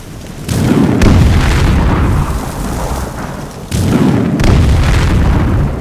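A spell in Skyrim strikes with a heavy explosive boom like an artillery shell, a deep roaring blast that rumbles on for seconds, and a second big impact follows about three seconds later.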